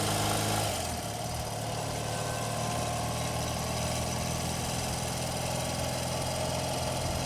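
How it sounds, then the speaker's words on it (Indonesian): A motorcycle engine starts up and settles into a steady, close idle, a continuous low throbbing hum with a faint mechanical rattle. "Di saat yang sama, mesin motor menyala."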